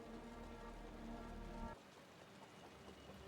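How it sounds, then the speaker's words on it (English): Rain in the video game Wuthering Waves hisses steadily, backed by a low droning hum that cuts out abruptly partway, leaving the softer patter of drops continuing alone. "The rain's getting heavier."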